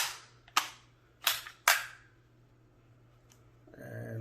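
A KRISS Vector's action is worked by hand to clear it, giving three sharp metallic clacks in quick succession, then quiet and a faint click before a voice begins.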